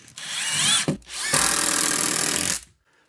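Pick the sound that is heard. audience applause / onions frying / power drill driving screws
power drill driving screws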